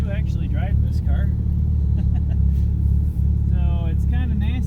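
Car out on a short test drive on a wet, nasty day with its front bumper refitted, a steady low engine and road rumble heard from inside, with voices chatting over it.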